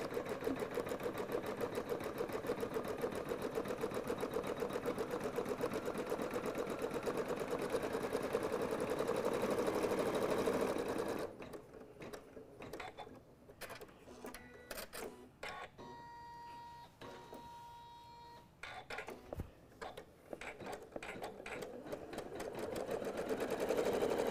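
A sewing machine stitches an applique Christmas ornament, running in a steady, close, continuous whir for the first half before dropping to quieter, broken bursts of stitching with pauses between.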